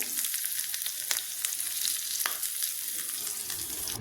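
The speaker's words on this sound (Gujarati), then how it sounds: "આપણો વઘાર થઈ ગયો છે આપણે વઘારને રેડી દઉં ઉપરથી આવી રીતે" Hot tempering with chilli pieces and curry leaves poured over sour dhokla, giving a bright continuous sizzle with crackling pops, close and steady from start to end, no voices.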